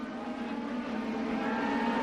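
CART race cars at the 1997 Portland race pass in a bunched group. Their engines make a faint, continuous high whine that slowly rises in pitch, blending together with no voices.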